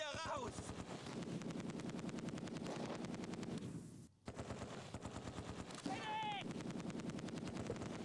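Heavy gunfire from the World War II strategy game Close Combat 2, with dense machine-gun bursts and rifle shots rattling continuously, a short lull near the middle, then the firing resuming amid battle noise.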